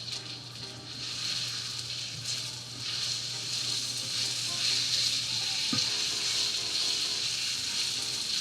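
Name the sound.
stirring apple slices cooking in a pan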